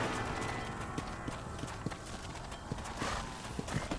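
Horse hooves clip-clopping in the Red Dead Redemption video game. The hoofbeats are steady and rhythmic at a moderate distance over a dense background of ambient noise.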